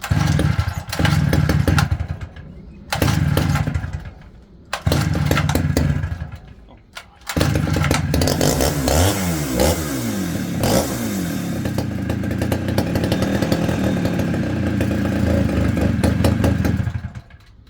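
A small engine without its high idle block is cranked in several short loud bursts with gaps between. It then catches and runs steadily, rough and clattering, close by, before cutting off at the end.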